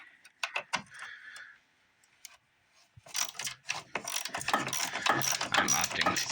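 Rapid ratchet clicks from an 8 mm socket loosening the negative battery terminal nut on a 2004 Ford Expedition 5.4 come in short bursts at first, then turn into a busier, louder run of close mechanical clicking.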